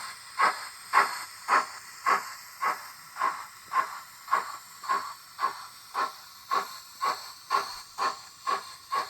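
Rhythmic steam-engine chuffing from a Dapol Hawthorn Leslie model locomotive with DCC sound, a steady string of hissing puffs at an even pace with a faint high whine behind it.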